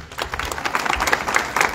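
Congregation at a Catholic mass honoring the Señor de Mailín in a neighborhood chapel applauding, a dense steady wash of many hands clapping at moderate level for nearly two seconds.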